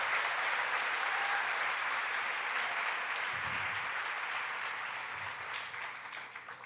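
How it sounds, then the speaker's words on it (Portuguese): Congregation applauding during a church sermon, a dense, steady wash of clapping held at an even level throughout, with a few low thumps partway through. "Dá uma linda salva de palmas a Jesus"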